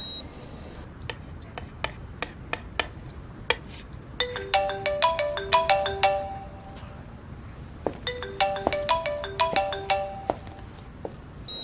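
A mobile phone ringtone plays in two bursts of bright repeating electronic melody, moderately loud indoors, with quiet background sounds between the phrases.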